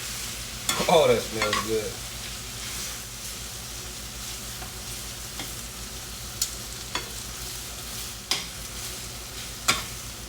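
Ground beef for homemade chili beans sizzling in a pan, stirred with occasional sharp scrapes and knocks against the pan over a steady frying hiss, with a brief spoken comment early on.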